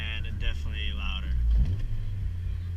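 Honda Civic Si engine pulling at wide-open throttle, a loud, steady low drone with a surge in the middle, recorded in the car.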